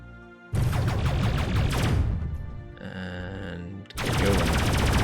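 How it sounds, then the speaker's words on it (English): Bursts of rapid gunfire in the space game Endless Sky, a dense loud volley, a brief tonal pause with a humming effect, then another heavy burst. "Away from the gunfire, please."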